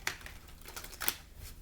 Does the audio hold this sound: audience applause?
no